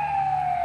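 A Sterling M horizontal siren on test in Richland, New Jersey gives a loud, sustained, steady wail with a single strong tone and overtones, heard alone for a brief moment.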